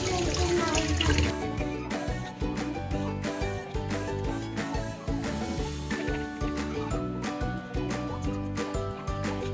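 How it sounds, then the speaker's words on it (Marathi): Tap water runs into a kitchen sink as tomatoes are washed, a steady splashing stream with clinks and knocks from produce and dishes over it, fairly close. "टोमॅटो वॉश करू आता"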